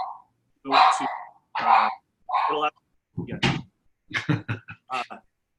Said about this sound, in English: Oh yeah, Frenchie. French bulldog.